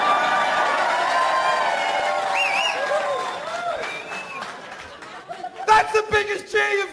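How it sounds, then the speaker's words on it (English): A comedy club audience cheers and applauds loudly, a dense crowd roar that fades to scattered claps and laughter before a fresh burst of clapping and whoops. "That's the biggest cheer you've given me all night!"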